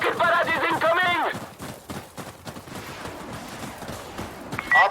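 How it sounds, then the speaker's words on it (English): Rocket barrage and rapid gunfire in the shooter game Insurgency Sandstorm: a voice talks at the start, then dense irregular bursts of shots and impacts crackle on through the rest of the scene. "Rocket barrage is incoming."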